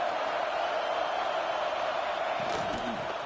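Stadium crowd in College Football 26 roars steadily at an opening-play home game, a constant broad wash of cheering throughout, with a brief sharper burst near the end.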